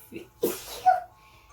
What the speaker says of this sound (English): Oh, I'm so sorry, I just sneezed.